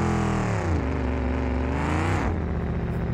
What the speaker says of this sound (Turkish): Sesi güzel arabanın.